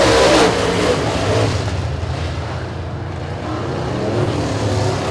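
E-Mod race cars roar side by side around a speedway track, with a loud, continuous engine snarl that swells and fades slightly as the pack passes.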